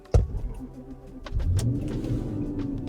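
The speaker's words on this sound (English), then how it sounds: "So if I turn the engine on" A car engine cranks with a sharp starter burst, then catches and settles into a low, steady rumble close by.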